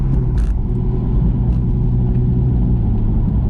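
An Audi R8 V10 Plus with a Quicksilver exhaust idles with a loud, deep, close rumble, a steady low burble throughout and a few faint clicks.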